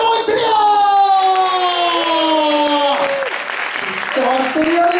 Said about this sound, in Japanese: 皆様大きな拍手と歓声でお迎えください